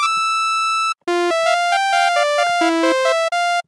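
A BA-1 soft synth plays a raw, buzzy sawtooth tone, first one long high note, then a quick run of short stepped notes, loud and clear with brief gaps between phrases.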